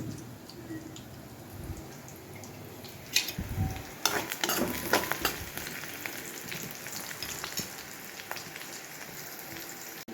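Egg fry masala frying and being stirred in a pan, a close, continuous crackling sizzle that swells into busier spattering and scraping stirs partway through.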